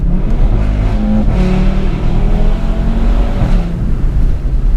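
A 2018 Audi RS3 with a 510 bhp engine accelerates hard, its loud, steady exhaust roar holding up close with no talking over it.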